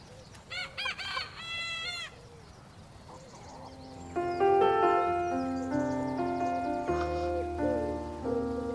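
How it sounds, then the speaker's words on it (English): A bantam cockerel crows at dawn, several close, high, scratchy calls early on, then a sustained tonal rooster crow runs through the rest, with a steady rain-like hiss and other birds in the background. "my new bantam cockerel has decided to join in the dawn chorus as well"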